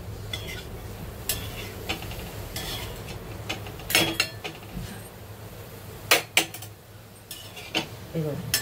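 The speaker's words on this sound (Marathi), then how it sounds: "आपण गवार ना नॉर्मली अशी ना भाजून घेऊया मस्त तव्यामध्ये" Cluster beans roasting on a tava griddle, stirred with a utensil: irregular scraping and metallic clinks over a low background hiss, fairly close, without talk.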